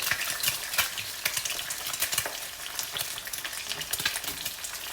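An egg fries in hot oil for Thai holy basil chicken, sizzling and crackling bright and close with constant spattering that never lets up.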